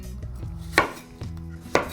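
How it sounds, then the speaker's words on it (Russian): A kitchen knife chops zucchini into half rings on a cutting board, three or four distinct close cuts at an unhurried, even pace, with no talk. "И нарезаем вот на такие вот полукольца."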